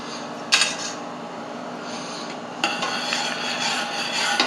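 Pectin and sugar poured into a pot of jam at a rolling boil during home canning, with a steady bubbling hiss, a sharp clink of a utensil against the pot and a scraping stir.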